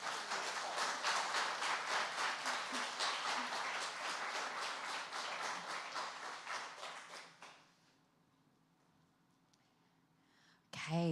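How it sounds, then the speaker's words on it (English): Audience applause at a cultural heritage conference, rhythmic and fairly loud for about seven seconds before fading into near silence, followed by a brief sharp burst at the end. "One more round of applause."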